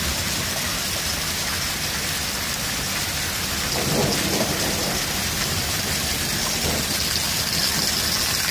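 Heavy rain pours in a steady, loud wash across a village in Miani Syedan, with a low rumble of thunder swelling partway through and no voices heard.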